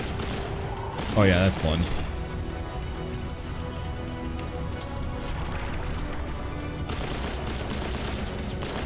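Mech guns fire in the video game M.A.S.S. Builder, a customizable mecha action shooter, as a steady stream of rapid shots with clanking mechanical noise and a brief louder burst, while someone comments briefly.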